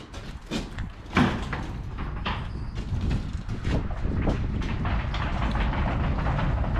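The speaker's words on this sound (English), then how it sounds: "now we can roll the tarp forward." A tarp rolls forward along the frame of an LCS glass double-drop trailer, producing a rumbling, rattling slide with clunks and scrapes that build to a steady rolling noise.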